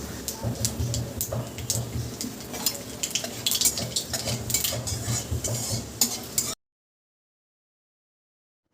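A utensil scrapes and clinks against a wok while fish sizzles softly in oil with nigella seeds, steady close stirring that stops abruptly, leaving silence.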